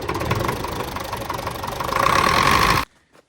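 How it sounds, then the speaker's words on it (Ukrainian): A small engine on a homemade lift beside a winter greenhouse runs loud and close, rising in pitch as it is revved, then cuts off abruptly into near silence. "Все, завівся з півобороти. Дай трохи газу!"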